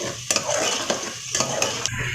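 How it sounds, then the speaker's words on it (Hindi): Onions frying in a pan until light brown while a utensil stirs them, with a steady sizzle under repeated scraping and clinking strokes against the pan, close and fairly loud, no voices. "प्याज को लाइट ब्राउन कर लें।"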